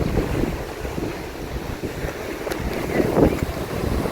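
Sea waves wash onto a sandy beach in a steady, rolling roar, with heavy wind buffeting the microphone throughout.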